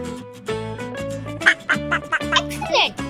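Duck quacks in a children's animal-sound guessing game, a run of short nasal calls in a bouncy rhythm over cheerful music, close and clear, likely voiced in imitation.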